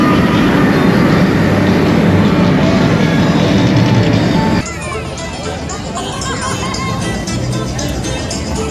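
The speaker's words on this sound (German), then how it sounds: "Also The Beast, eine der besten Achterbahnen überhaupt" The Beast wooden roller coaster at Kings Island roaring along its track, a loud, steady rumble that shifts character midway through, with riders' voices mixed into the din.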